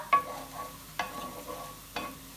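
Cumin and mustard seeds dropped into hot oil for chole, giving a soft crackle and sizzle broken by three sharp clicks of a spoon against the pan about a second apart.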